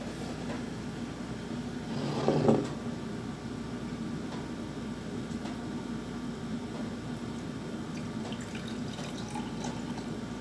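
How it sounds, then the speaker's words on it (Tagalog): Water pours into a container until it is half full, a brief louder splash over a steady soft hiss of running water, close by and with no talking. "lagyan mo lamang ito ng tubig, kalahati lamang"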